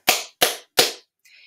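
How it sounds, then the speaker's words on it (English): Three crisp hand claps in quick, steady succession, near and loud, followed by a faint brief tone. "You can hear me clapping."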